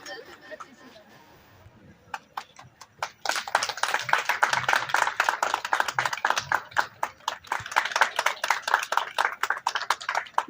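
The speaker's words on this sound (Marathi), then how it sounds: "सर्वांनी टाळ्या वाजवायच्या, टाळ्यांचा कडकडाट करायचा" An audience claps at a women's day honouring ceremony in Bhusawal: a few scattered claps, then a dense round of applause for the rest, with murmured chatter underneath.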